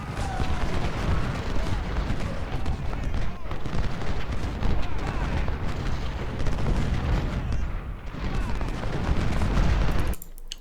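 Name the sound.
musket volley fire in the video game Ultimate General: Civil War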